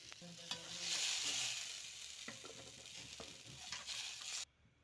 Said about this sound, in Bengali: আলুগুলো ভেজে রেখে দেবো।